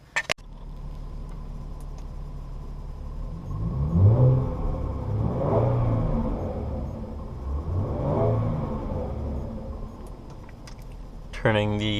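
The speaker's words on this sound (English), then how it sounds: "This one I guess I will start up and show you guys the sound of it" A 2017 Jaguar F-Type with a supercharged V6 fires up with a sharp starter burst, settles to idle, then gives three separate rising-and-falling revs before a short click at the end.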